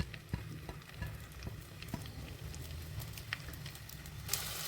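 Sliced onions sauté in hot coconut oil, giving a steady moderate sizzle with crackles and stirring clicks throughout and a sharper scrape near the end, no voices.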